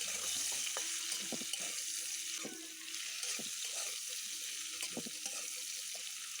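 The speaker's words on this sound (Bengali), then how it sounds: "কাঁচা লঙ্কা একটা দিয়ে আলু আর পেঁপেটা ভেজে নিতে হবে ভালো করে।" Potato and papaya sizzling in hot oil with a green chili, a steady fry hiss under occasional stirring clinks and scrapes of a spatula in the pan.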